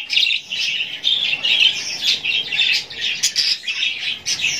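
Cockatiels give shrill, repeated squawking calls in quick bursts, loud and close, with barely a pause between them and no talking.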